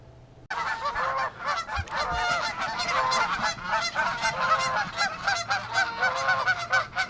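Geese honking in distress after their nests and eggs are disturbed, a loud, continuous chorus of overlapping honks from several birds, close by, starting abruptly and carrying on without pause.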